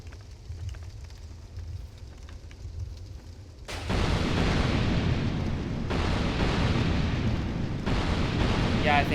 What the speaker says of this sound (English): Yeah, I think that's burning up the chest.